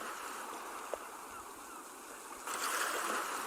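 Steady splashing and trickling of a decorative water feature, a continuous moderate wash of falling water that swells a little louder near the end, with no voices.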